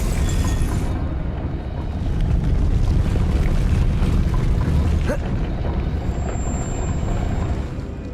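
In Hogwarts Legacy, a Depulso spell is cast with a deep, rumbling whoosh of force that swells into a heavy, sustained boom and hangs loud for several seconds.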